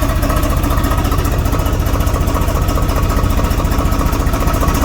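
A Swaraj 855 tractor's diesel engine idles loudly nearby, a steady rapid chug with even pulsing throughout and no talking.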